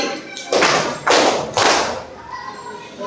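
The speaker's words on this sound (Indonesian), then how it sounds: "Ketika Bapak menyebutkan kata pagi, boleh tepuk tangan sebanyak" A crowd claps in unison three times, each burst of hands a broad, loud clap about half a second apart, followed by a quieter room.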